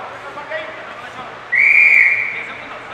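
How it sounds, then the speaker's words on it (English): A referee's whistle at a professional boxing match sounds as one shrill blast midway through, cutting over the background arena noise. "we get the whistle at 2:55, so we're over 3 minutes right now"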